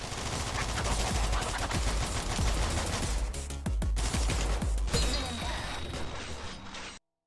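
Gunfire in the video game All Day Dying, a loud dense barrage of rapid shots and impacts rattling over a continuous game soundscape before cutting off abruptly.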